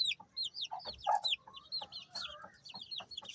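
Several domestic chickens kept at home for raising chicks cluck in short repeated calls, fairly close, with higher chirps mixed in and no talk.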